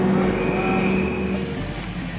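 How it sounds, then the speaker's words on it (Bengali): A train's whistle sounds as a loud, steady tonal blast lasting about two seconds over a low rumble. "ট্রেন হুইসেল দিচ্ছে"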